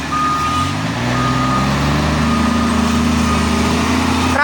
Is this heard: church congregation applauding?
no